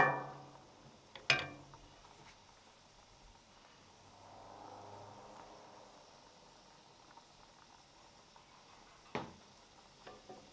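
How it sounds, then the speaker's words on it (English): Flour being stirred into melted fat in a pan to start a roux for mac and cheese; faint, soft scraping and swishing in a quiet kitchen, punctuated by a few sharp clinks of the utensil against the pan. "take about a tablespoon, 2 tablespoons of flour. Going to kind of make a roux."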